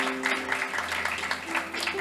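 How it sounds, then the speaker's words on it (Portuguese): Church audience applauding, a steady dense patter of many hands clapping at moderate distance, continuing without pause. "Uma salva de palmas."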